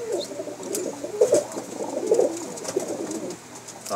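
Teddy pigeons coo close by, a series of soft, rolling low coos repeating over a faint background hum.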